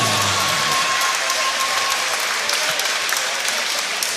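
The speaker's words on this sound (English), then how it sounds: "Please put your hands together and make some noise" At a boxing contest at the XFC 9 event, a crowd claps and cheers for a fighter's introduction, a dense continuous wash of applause holding steady throughout, with a faint tone fading early on.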